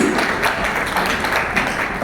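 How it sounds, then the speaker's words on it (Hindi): A hotel event audience gives loud applause, a dense, steady wash of clapping that holds at full volume for about two seconds without a break. "एक बार जोरदार तालियां हो जाए प्लीज"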